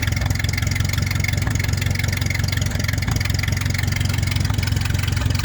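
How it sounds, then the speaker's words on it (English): A tractor engine runs steadily at a low, throbbing idle, close and continuous with an even rhythmic chug and no talking. "Still got the tractor though."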